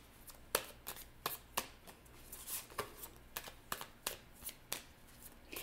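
Everyday oracle cards shuffled by hand for a reading, a quiet series of crisp riffling snaps repeating at a loose, steady rhythm, close up.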